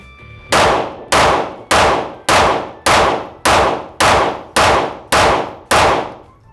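A Taurus G2C pistol emptying the rest of its magazine: ten loud, sharp shots fired at a steady, roughly even pace, each one ringing out and decaying before the next, with no voices.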